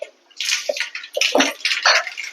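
Mustard seeds, with cumin to follow, crackle and spit in hot oil in a home kitchen, giving a dense run of bright popping and hissing bursts after a brief quiet start.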